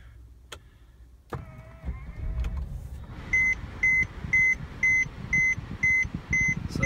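A 2014 Mercedes E350 being started: a click and brief whir as the engine catches, then a steady idle under a regular series of high warning chimes, close by in the cabin.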